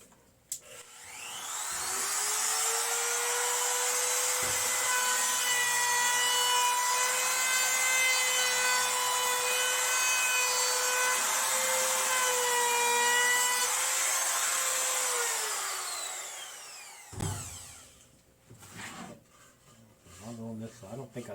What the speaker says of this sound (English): Let's run the router on both sides.